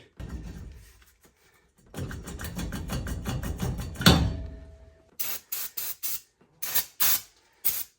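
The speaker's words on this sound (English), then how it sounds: "Brake clean this bad boy good." Brake cleaner sprayed onto brake parts during a brake and rotor job on a 2004-or-later Ford F-150, first a long sustained hiss, then a clank, followed by several short, sharp bursts of spray up close.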